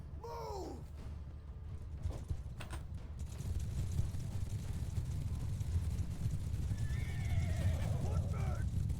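Cavalry horses in the game Bannerlord whinny near the start and again later, with clip-clopping hooves and a low rumble of moving riders building into a steady mass of movement.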